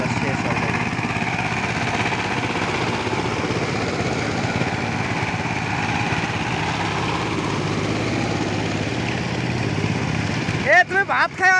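Three power tillers cultivating a field together, producing a continuous layered engine drone close by that runs throughout, with voices talking over it and the engine noise dropping off briefly near the end.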